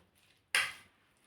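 A single brief scrape and clatter of a spoon against a pot while mixing raw mango takku with jaggery until the jaggery melts, a short close burst in an otherwise quiet kitchen.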